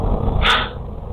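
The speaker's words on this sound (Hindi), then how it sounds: "भौंक रहा है भाई" A single short, sharp dog bark rings out at middle distance over a steady background hum.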